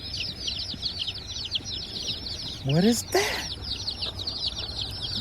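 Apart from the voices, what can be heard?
baby chicks peeping in a hatchery box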